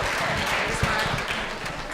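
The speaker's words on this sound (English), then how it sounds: "So how about a round of applause for our town librarian" An audience at a public library claps for the town librarian, a dense, steady patter of many hands lasting a couple of seconds at moderate loudness.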